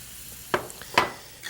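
Vegetarian egg-style scramble with cream and black pepper gets a final stir in a pan off the flame, two short scraping strokes over a quiet background.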